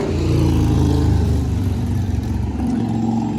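A car pulls away loudly on a city street in Moncton, New Brunswick, its engine a loud, close, rumbling roar that holds steady and then starts to ease off.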